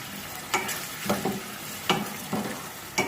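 Small onions frying in oil in a pan, a steady sizzle punctuated by about six short scraping strokes of a spoon stirring them at a fairly regular pace, close and clear with no talking.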